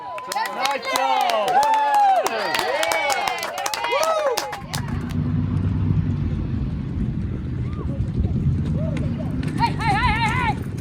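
Horses gallop at a ranch horse show with rapid clip-clop hoofbeats under loud music and an announcer's voice, followed by a rumbling stretch of running hooves.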